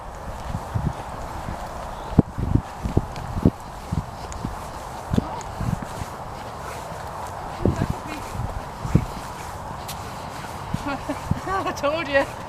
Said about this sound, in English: And there's a horse in Free Eagles paddock as well